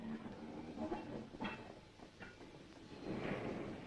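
Railway wagons roll and clatter quietly at a distance through a shunting yard with automatic points, a wagon every few seconds, with faint clicks and a soft hiss now and then.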